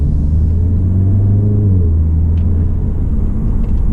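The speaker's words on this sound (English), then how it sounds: "I'm only driving on the normal mode right now, and it was so smooth." A car with a re-flashed DSG transmission cruising in normal mode, heard as a loud, steady low engine and road rumble from inside the cabin, with a brief smooth rise and settle in pitch.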